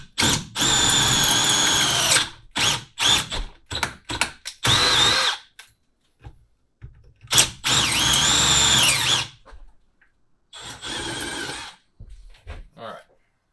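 A power drill boring a bit into PVC pipe, heard as a series of loud high-pitched bursts, some short and some a few seconds long, separated by silences, with brief sounds between the runs.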